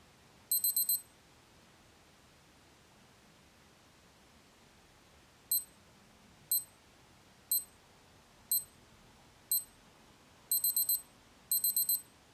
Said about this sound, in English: They call it a progress beeper and it subsequently beeps as the timer approaches close to 0.